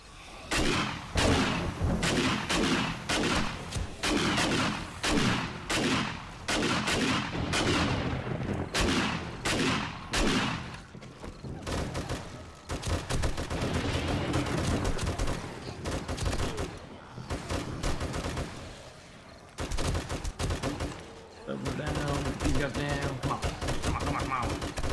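Gunfire in the video game 7 Days to Die: dense bursts of rapid shots and heavy repeated blasts, loud and nearly continuous, with brief lulls and someone talking over parts of it.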